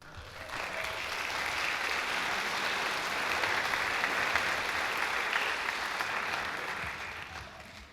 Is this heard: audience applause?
yes